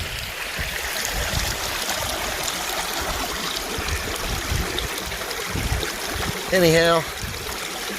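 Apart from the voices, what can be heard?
creek water flowing through a gold prospecting sluice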